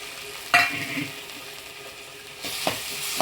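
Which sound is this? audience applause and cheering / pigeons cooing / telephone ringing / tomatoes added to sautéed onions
tomatoes added to sautéed onions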